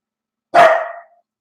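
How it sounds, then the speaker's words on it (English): A single sharp dog bark, loud and close, standing alone against silence. "I apologize about the barking that you're hearing."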